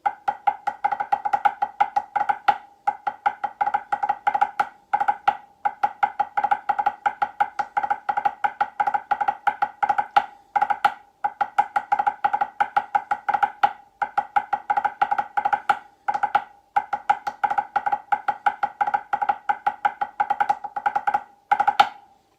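Loud, close Lambeg drum playing very fast triplet groupings, a nearly continuous rolling pattern of sharp beats with only a few momentary breaks.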